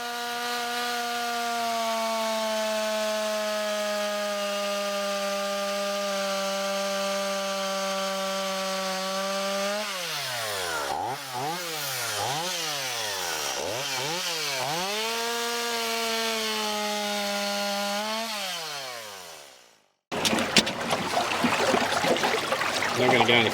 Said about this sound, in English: negotiate the blockages in the river by means of cutting them with a machete or chainsaw